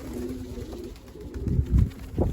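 Young homing pigeons coo in low, throaty, rolling calls, a few soft phrases close by over a faint background hum, with no talk.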